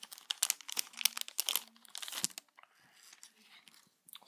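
Plastic wrapper on a Dice Masters Age of Ultron card and dice pack crinkling and tearing open close by, a burst of crunchy rustling that trails into a few quieter crinkles, with a little talk underneath.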